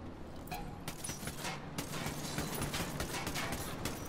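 Rapid bursts of automatic gunfire in the video game Ghost Recon Wildlands, dense and continuous across the whole span with sharp repeated cracks layered over a steady din.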